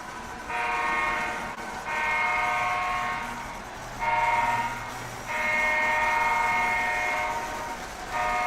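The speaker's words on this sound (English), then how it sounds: "The Seaboard's making all the noise for us." Seaboard model diesel locomotive on a layout sounding its horn in four sustained blasts of varied length, close and loud, over a low running hum.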